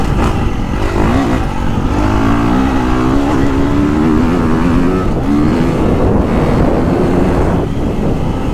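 A KTM 350 motorcycle engine revs as it rides, a loud close drone that climbs and falls in pitch through several swells, with wind rushing over the microphone.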